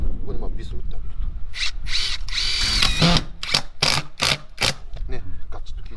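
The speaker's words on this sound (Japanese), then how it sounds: "ここでまあビスを打ってあげると" A power drill drives screws into roof rafters on a Japanese building site, with several loud bursts of whirring motor and short pauses between them, close to the mic, while someone talks over it.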